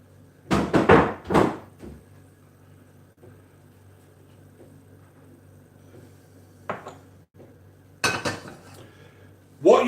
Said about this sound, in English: I'm just going to move this board out of the way.